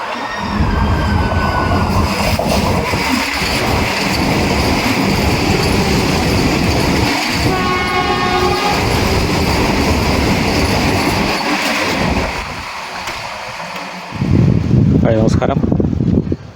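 A train rumbles loudly through Kappil Railway Station with rhythmic wheel clatter and a brief high squeal, then quiets before another burst of noise at the end.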